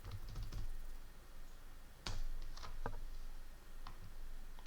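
Typing on a computer keyboard, a sparse series of close, soft key clicks and taps with a few sharper strikes, over a faint steady room hiss.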